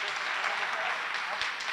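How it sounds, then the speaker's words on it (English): An evening museum discussion audience applauds its guest speakers with steady, dense clapping filling the room throughout. "Let's give a round of applause to our incredible guests."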